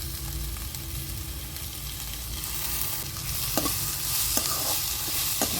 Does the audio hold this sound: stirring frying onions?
yes